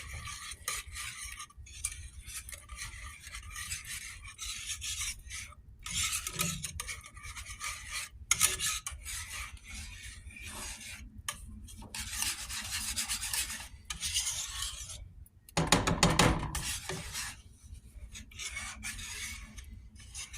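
Shredded cheddar cheese being stirred into a pot of broccoli soup, a steady scraping, rasping stir with short pauses, close and fairly quiet, with no talking.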